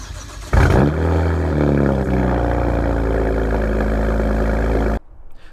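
A modified BMW 335i engine cranks and starts cold, then revs loudly and holds a high, steady idle roar before cutting off abruptly.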